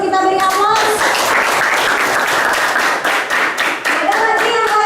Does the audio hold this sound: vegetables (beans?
no